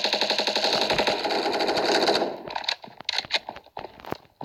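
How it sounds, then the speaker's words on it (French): Rapid automatic gunfire in the mobile shooter game Standoff 2, a dense sustained burst of shots for about two seconds, then scattered single shots and impacts, loud and close with no talk over it. "c'est qu'on tire, on tire, on tire, on tire"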